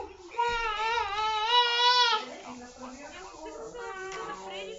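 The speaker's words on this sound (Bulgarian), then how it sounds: "Ако чувате, че някое бебе пищи, това е моята малка сестра." A baby girl screams and wails in a room, a loud, wavering cry for about two seconds that then drops into softer whimpering sobs.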